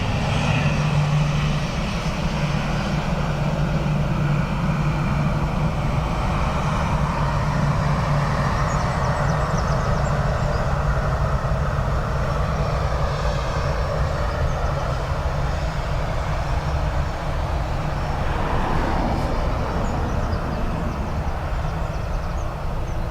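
An airplane landing on runway 28 left at Dublin Airport, a loud continuous roar of engines and rushing air lasting throughout, steady and near, with no talk.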